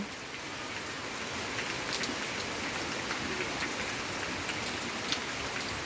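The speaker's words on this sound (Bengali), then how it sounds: "বৃষ্টি পড়ছে প্রচুর" Heavy rain pours down on a rural village, a dense, unbroken hiss of drops hitting surfaces close by, loud and steady throughout with no voices.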